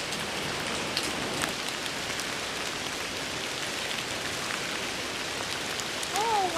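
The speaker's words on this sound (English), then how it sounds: "it's been raining fairly heavily" Heavy rain falling steadily on a trail near Mount Marcy in the Adirondacks, a dense continuous hiss of drops close around, with a faint voice-like sound rising near the end.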